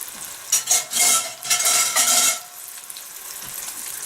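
Pre-made dumplings dumped into a Dutch oven, heard as a burst of soft splashing and bubbling sizzle in the middle of the clip that settles into a quieter simmer, close up with no talking.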